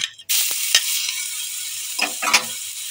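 Garlic paste hitting hot oil sets off a sudden loud, bright sizzle that holds steady, broken by a few knocks of stirring and spatula scrapes, very close.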